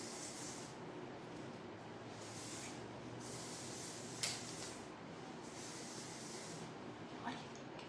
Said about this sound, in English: And then good old hairspray.